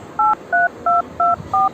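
Five crisp telephone keypad tones sound in an even rhythm while a call is placed, each beep loud and close against a faint background hiss.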